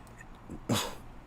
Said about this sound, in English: No, that's Rooster. The rooster.